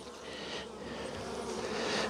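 Honey bees swarming around a frame lifted from a hive, a steady dense buzz that stays close and fairly quiet, swelling slightly toward the end with no voices.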